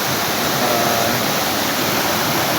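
A waterfall spills over rocky ground in a steady, loud roar of broadband rushing water, continuous and close, with no voices.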